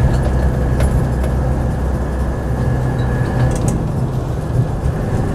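A Land Rover 90 hardtop with a 200TDi diesel engine heard from inside while driving: a steady low drone of engine and road rumble with a faint whine and no break in the sound.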